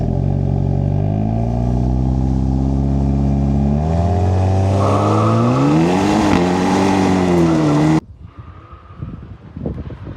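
A 2025 Volkswagen Jetta GLI and a 2025 Hyundai Elantra N drag race on a private road in Mexico, their engines droning loudly and rising in pitch through the gears before the sound cuts off abruptly to quieter rumbling.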